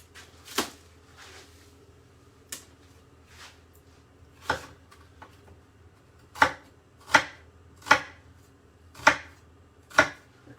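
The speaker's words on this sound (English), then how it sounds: "I kind of want this onion in small pieces, so I don't know if you've seen what I've just done there. You kind of cut the onion not all the way along" A knife chops through a red onion on a board, a few scattered cuts and then a steady run of sharp, evenly spaced chops close by, with no talking.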